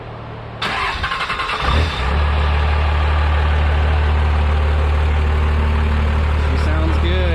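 A 12-valve Cummins diesel pickup truck cranks briefly, then fires up and settles into a loud, deep, steady idle close by, running alone without talk.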